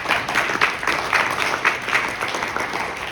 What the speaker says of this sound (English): Would you give him a round of applause?